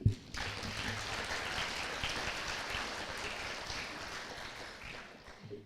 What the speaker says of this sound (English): Can we please get a round of applause for our parents?